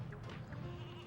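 A ram in the N64 game Space Station Silicon Valley gives a faint, brief bleat over a steady low background hum.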